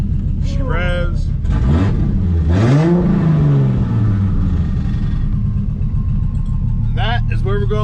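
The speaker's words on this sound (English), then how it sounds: "She revs." A big-turbo tuned car engine revs up in a rising, then falling sweep over a rough idle, close and loud, while people talk over it.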